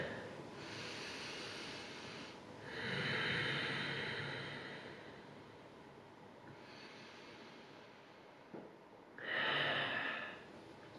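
Slow, deep yoga breaths during a gentle stretch in a limited-mobility and balance class, each long airy inhale and exhale close and clear, spaced several seconds apart over quiet background, with no talking.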